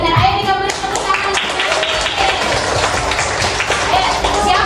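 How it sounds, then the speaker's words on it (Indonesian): Continuous, energetic hand clapping from a group of children in a classroom, fast and overlapping, loud and close, with children's voices mixed in. "Ya benar, ayo digabungin tepuk tangan."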